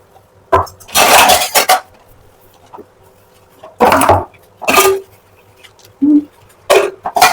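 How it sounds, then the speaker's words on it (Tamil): Clattering dishes and pots in bursts, with clinks and scrapes separated by short pauses, close by. "இவ்வளவு பாத்திரம் கழுவணும்"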